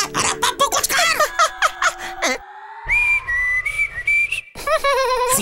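Whistling from a character in a Hindi kids' TV comedy serial: a quick run of short chirpy whistled notes, then a long sustained rising whistle tone, then more rapid warbling whistles. Loud and close, with some voices mixed in.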